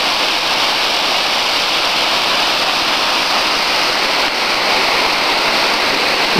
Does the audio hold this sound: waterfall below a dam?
yes